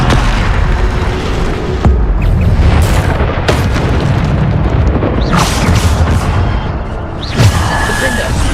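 Bombarda spell blasts in the video game Hogwarts Legacy, a series of loud booming explosions and bursts over a dense rumbling battle background, one after another.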